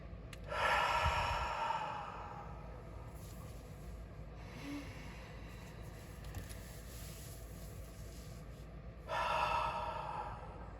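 Slow breaths drawn through a slightly plugged-up nose, with two loud, rough, hissing airy pulls near the start and end and quieter breathing between them, close to the microphone, with no talking.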